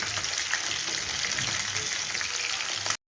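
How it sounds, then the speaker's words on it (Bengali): Fish frying in a pan for a Bangladeshi fish curry: a steady, continuous hiss and crackle of oil, moderately loud and close, running unbroken for about three seconds before cutting off. "এভাবে আমি সবগুলো মাছ ভেজে নেব।"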